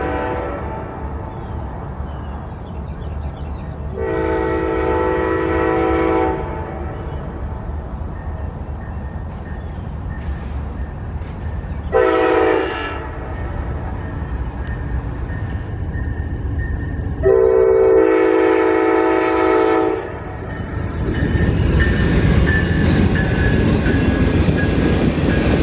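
Amtrak 71, an express passenger train, sounds three long horn blasts over a steady rumbling approach, then roars past loudly with clattering wheels.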